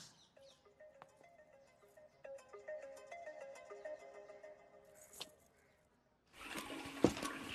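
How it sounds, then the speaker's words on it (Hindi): A soft electronic ringtone melody plays faintly with repeating tones, then stops, followed by a burst of rushing noise. "अरे पूजा डार्लिंग, फोन उठाओ यार"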